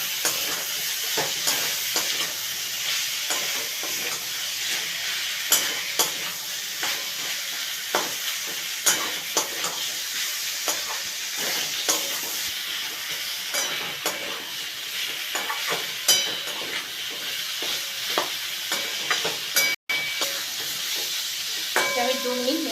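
Chicken and potatoes frying in a pan over a medium flame, stirred steadily, with a continuous close sizzle and hiss broken by frequent scraping clicks of the spoon, and no talking.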